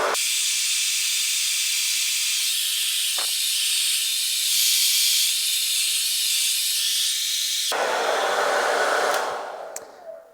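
A 320-watt load draws power from a VEVOR mini power station, giving a loud, steady airy blowing hiss for about eight seconds that shifts to a quieter tone before shutting off near the end, with no speech.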